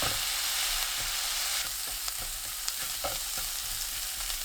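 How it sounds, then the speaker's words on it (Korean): Dried pumpkin strips stir-fried over medium heat with garlic and green onion in oil, a steady close sizzle running throughout with scattered scrapes and clicks of a utensil against the pan. "호박 넣고 중불로 켜서 1분 볶습니다"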